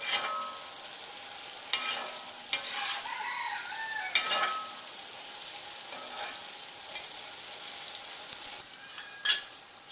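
Potatoes with sauces and sugar sizzle in a hot pan as a utensil stirs them, with a soft continuous fry, occasional scraping knocks against the pan and a few faint clicks.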